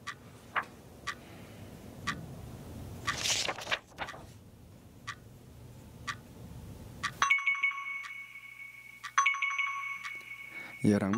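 A phone ringtone starts partway through, a repeating electronic melody of bright tones, loud and close, following a stretch of background speech and ticking sounds.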